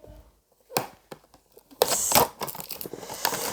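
A small silicone compote pouch being opened by hand, with crinkly handling, scraping and clicking sounds, sparse at first, then a louder burst of plastic rustling and clatter in the second half, close up and with no talk.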